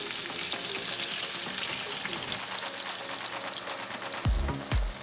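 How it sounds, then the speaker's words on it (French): Meatballs sizzle hard in a frying pan as water is poured in, a loud bubbling hiss that surges near the end with a couple of deep, heavy splashes. "on va ajouter de l'eau pour couvrir nos boulettes"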